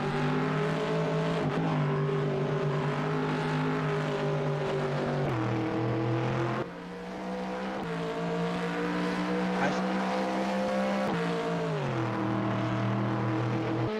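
Corvette race car engine in an endurance eRacing sim during qualifying, a loud continuous near roar with steady pitch shifts through gear changes and brief drops under braking, occasional faint tire noise.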